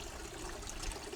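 A small backyard garden water fountain trickles and splashes softly, a faint continuous flow of dribbling water heard on its own with no voices.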